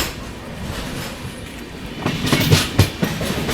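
Navjeevan SF Express rolling past a station platform, a steady rail rumble with clickety-clack wheel beats growing louder and busier toward the end, heard from on board with no talking.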